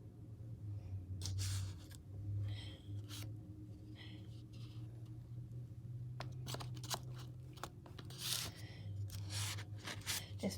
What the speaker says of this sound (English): I just cut out these little butterflies to put on some of mine.